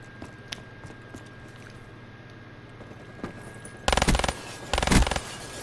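Burst-fire gunshots from a pistol in the video game Black Ops 3 sound over faint background game noise, with two loud, rapid bursts close together near the end.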